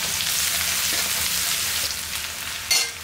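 Crushed garlic cloves fry in hot oil for a peanut masala dish, giving a continuous, close sizzle with a few brief stirring clatters and one sharper spit near the end.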